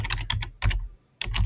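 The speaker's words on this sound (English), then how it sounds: "if I just type in say google.com, it will not allow" Typing on a computer keyboard while entering a web address, with three quick bursts of close, crisp key clicks separated by short pauses.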